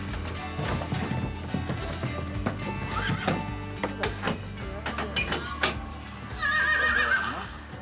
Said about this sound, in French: avec la chaleur, les chevaux ont tendance à vouloir se coucher dans l'eau